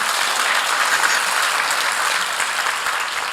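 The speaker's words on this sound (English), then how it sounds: "So can clap. Right?" Audience applause at a World Toilet Day talk, a dense, even wash of many hands clapping that holds steady and fairly loud for the full few seconds with no voices over it.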